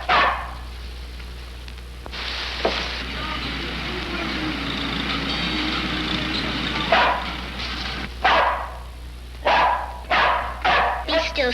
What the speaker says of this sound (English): And for the love of Mike, keep that dog quiet.